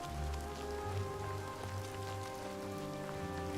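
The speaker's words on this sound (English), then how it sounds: "It's always fucking raining when I'm playing this game." Rain falls steadily in the Shivering Isles of the game Oblivion Remastered, a dense constant patter spread over a low musical drone.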